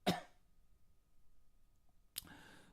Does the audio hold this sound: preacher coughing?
yes